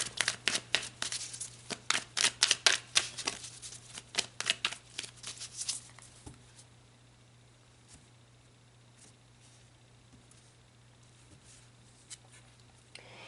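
Tarot cards are riffled and shuffled in a quick run of crisp, close slaps and flutters lasting several seconds, then give way to near silence with a faint steady hum and an occasional soft card tap.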